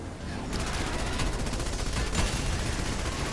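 Gunfire against zombies in the Call of Duty zombies map Mauer Der Toten, loud rapid automatic shooting that kicks in suddenly and keeps going densely, with a voice briefly under it.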